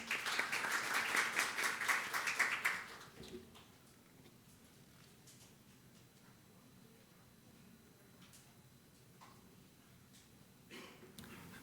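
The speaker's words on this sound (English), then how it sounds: "please give a big round of applause" A small forum audience at an innovation conference claps briefly for a few seconds, then the applause fades into a quiet room with faint rustles and scattered small noises.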